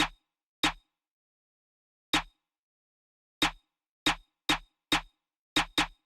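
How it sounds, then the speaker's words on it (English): Sparse UK drill snare pattern in a beat, crisp isolated hits arriving in an uneven bouncing rhythm, a few widely spaced and then clustered closer together, dry and alone against silence. "I came up with this very simple drill kind of snare pattern."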